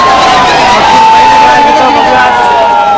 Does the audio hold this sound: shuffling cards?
no